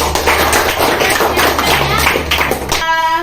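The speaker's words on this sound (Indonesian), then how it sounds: "tepuk tangan untuk kelompok" A classroom of students claps for a group of classmates, a dense run of hand claps lasting about three seconds before fading into quiet voices.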